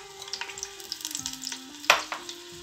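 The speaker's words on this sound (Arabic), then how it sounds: "وندير عاود شويه من الزيت، زيت نورمال، وندير هاد البصيله ديالي صغيره" A small onion fries in oil in a pot, making a light, crackling sizzle with a few sharp pops, while a steady tone from an appliance hums underneath.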